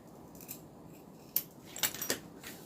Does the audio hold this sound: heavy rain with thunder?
no